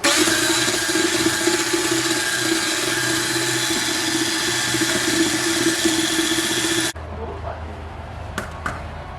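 An electric mixer whirs loudly and steadily through cheesecake batter, then cuts off abruptly and leaves quiet room sound with a few light knocks.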